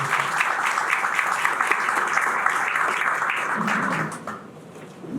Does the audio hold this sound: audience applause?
yes